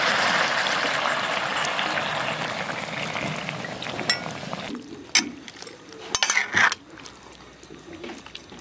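Beer poured from a bottle over marinated chicken in a pan with star anise and bay leaves, a steady liquid pour and bubbling hiss for several seconds, then a few clinks and knocks of the pan as the pouring stops.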